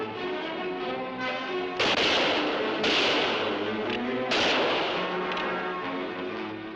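Rifles and guns firing at a lake island in a frontier drama: a few heavy booming shots spaced over several seconds, each with a long rumbling tail over a steady background din.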